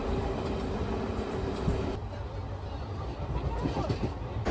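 A train rumbles along with a low, continuous rolling roar and faint rhythmic clatter, heard from inside a carriage, en route to Rampurhat.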